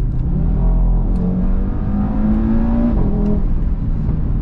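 An Audi RS3 engine pulls hard under acceleration while driving, a loud sustained roar with rising pitch sweeps and a brief shift dip, heard from inside the car with no talk.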